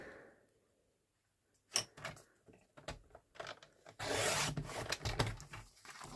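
Paper being sliced on a craft paper trimmer while making a mushroom-themed folio; quiet rubbing and sliding strokes give way to a longer, louder rasping cut near the end, close by and without speech.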